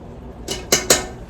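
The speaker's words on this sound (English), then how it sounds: "we're gonna stir that around for a few minutes with our vegetables and our butter" A spoon clanks against a pot while flour, vegetables and butter are stirred for crawfish mac and cheese: three sharp metallic knocks close together, each with a brief ring, and near-silence between them.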